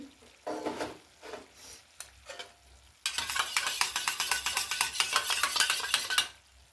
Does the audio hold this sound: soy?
yes